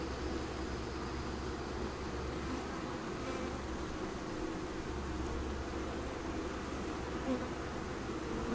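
A small honey bee swarm fans at a hive box, producing a continuous low, even buzzing drone that holds steady and close throughout without any talk.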